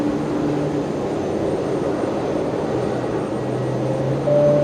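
Jet airliner taxiing at night toward runway 01 Right at Brisbane Airport, a steady, continuous engine rumble and whine at moderate distance with no other sounds.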